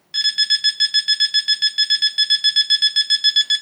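A rapid, steady series of high electronic beeps from a Wi-Fi analyzer app repeats without pause, clear and isolated against silence.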